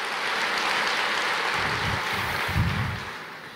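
A church congregation applauds during a Portuguese sermon, producing a steady rushing clatter of hands, with a few heavier low thumps toward the end.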